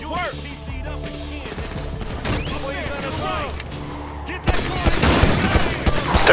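Rapid gunfire and bursts of shooting in the video game GTA V, dense and continuous, growing louder toward the end, with a voice speaking over the shots.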